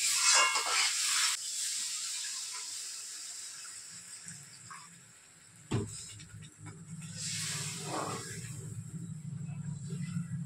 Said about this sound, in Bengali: এখন সামান্য জল দিয়ে দেব